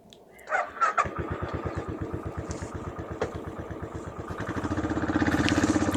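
A Royal Enfield Classic 500 motorcycle starts with a few brief cranking bursts, then catches into its steady, evenly spaced thumping single-cylinder idle, close by, with the beat quickening slightly toward the end.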